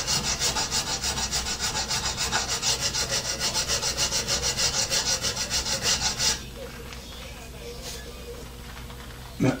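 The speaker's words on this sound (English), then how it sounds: "This is a very, very fine cut file. And draw filing produces a pretty good finish." Draw filing across a metal workpiece with a very fine cut file, steady rhythmic rasping strokes close by for about six seconds, then fading to quiet handling noise.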